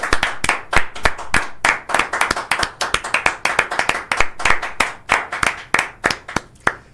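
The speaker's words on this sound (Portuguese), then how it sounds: "Palmas pra jornalista Cecília" A small group claps for a journalist: loud, close, fairly even rhythmic claps, dozens of sharp slaps in quick succession with slight unevenness, no talk over them.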